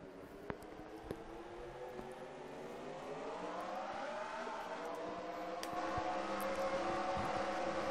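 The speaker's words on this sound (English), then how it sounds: "Drivers, start your engines." Race car engines start up and rev in a NASCAR-style Pokemon racing game, a low rising drone of many motors building steadily louder over several seconds.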